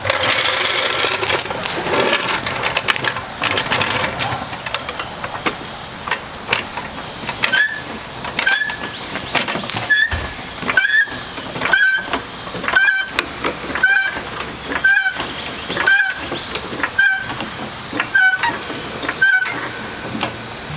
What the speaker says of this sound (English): we're going to jack it up by the pinch weld and put a jack stand underneath